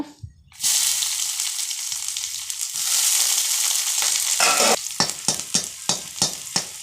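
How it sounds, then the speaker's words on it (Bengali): Chopped onion hits hot oil already holding bay leaf, black cumin and dried chilli, bursting into a loud steady sizzle, then a run of rhythmic stirring scrapes for potato and pointed gourd curry. "এবার পেঁয়াজ কুচি দিয়ে দেব।"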